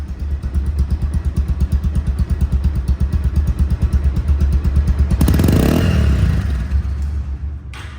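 A Bajaj Pulsar ABS motorcycle in showroom condition idles smoothly up close with an even, steady putter, then the revs swell and hold louder for a few seconds before easing back, with no voices.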